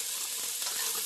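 Onions stir-fry in butter in a pan with a dense, bright, continuous sizzle, heard close up and alone for about a second.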